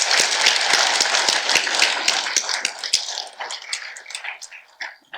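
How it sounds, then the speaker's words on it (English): Audience at a United Way evening event applauds the volunteers, loud dense clapping that thins out and tapers into scattered claps near the end. "If you please help me give them another round of applause."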